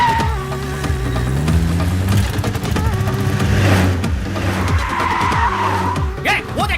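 An auto rickshaw speeds off during a chase scene in a Hindi-dubbed action film, its tires skidding loudly, with engine roar and chaotic harmonic whine running throughout under busy dramatic sound.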